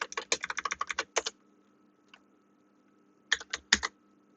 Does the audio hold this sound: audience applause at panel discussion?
no